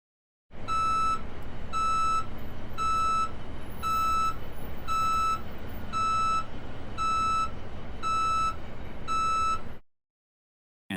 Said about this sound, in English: Next, the sound of a truck backing up on Earth.